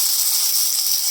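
A tomato dropped into hot oil for tomato chutney gives a steady, close, loud sizzle and hiss with no break, sounding alone with no voices.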